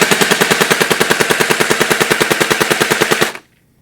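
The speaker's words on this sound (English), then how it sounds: "This gun can dish out 750 to 850 rounds per minute." A Thompson Chicago Typewriter airsoft AEG fires a loud, close, fast full-auto burst of evenly spaced shots for over three seconds, then stops abruptly into silence.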